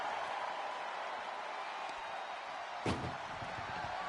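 A single sharp slam rings out as an ambulance door is shut during a WWE wrestling ambulance match, cutting through the steady roar of an arena crowd.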